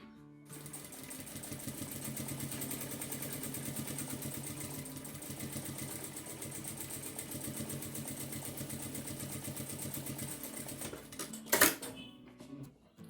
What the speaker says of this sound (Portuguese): eu vou fazer uma costura rebatendo